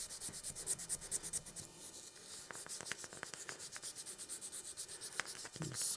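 Hand sanding a Damascus steel knife bolster with 400 grit paper on a rubber backing, a quiet rhythmic back-and-forth scrubbing rasp repeating in quick even strokes.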